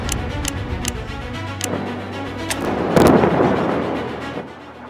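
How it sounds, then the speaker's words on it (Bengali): Wartime explosions and gunfire crack in sharp, sudden bursts, several spaced shots followed by a deeper rumbling blast that swells and fades, heard from a distance. "ধীরে ধীরে থামছে বিস্ফোরণের শব্দ, আকাশে কমছে আগুনের রেখা"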